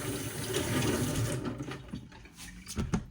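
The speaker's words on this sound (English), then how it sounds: "so I'm gonna give it a quick rinse" Tap water runs steadily over vegetables being rinsed in a kitchen sink, a continuous close splashing rush that thins and breaks into drips and clatters toward the end.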